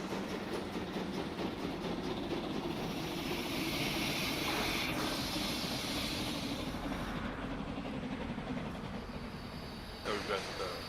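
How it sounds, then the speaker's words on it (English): A steam passenger train in the Transport Fever 2 railway game rolls along with a steady rumble and a clickety-clack rhythm. The sound is continuous and fairly loud, with the level dipping slightly near the end. "Let's check out our steam person train."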